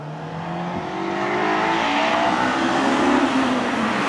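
A Honda S2000 sports car engine winds out toward high revs, its tone climbing steadily in pitch as it accelerates hard, loud and close throughout with no talking.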